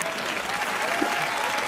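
Audience applause during a university computer science class lecture, a brief, fairly soft burst of many hands clapping at a steady level, with a faint voice beneath it.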